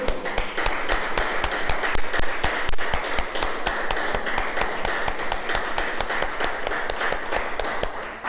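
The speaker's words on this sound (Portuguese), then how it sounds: "Vamos aplaudir o Senhor, porque Ele entendeu." A church congregation applauding during a sermon, loud rhythmic clapping with sharp regular beats repeating steadily for over eight seconds, close and sustained without speech.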